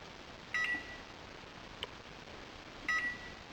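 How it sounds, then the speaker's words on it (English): Two short electronic beeps, evenly spaced, come from a microwave oven controller touchpad, with a faint click between them over a quiet hiss. "Dial up 30 seconds, then press the power button, then we'll put the power level on 5."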